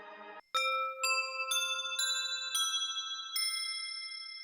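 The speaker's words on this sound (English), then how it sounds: "I'm going to switch to that bell sample that I recorded." A recorded bell sample plays on an Arturia MicroFreak synthesizer, a series of bright struck tones with long ringing tails, each new strike layering over the last.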